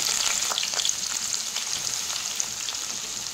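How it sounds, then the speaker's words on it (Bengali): Whole spices and onions frying in a little oil for chicken keema, a steady close sizzle with light crackles throughout, no talking. "পেঁয়াজটা লাল করে ভাজা হয়ে আসছে"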